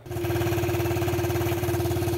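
A small 1983 Suzuki LT125 ATV engine idles steadily up close, a fast, even putter with a constant hum running through it and no voices.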